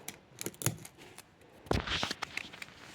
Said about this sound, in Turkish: Bandımızı koparalım.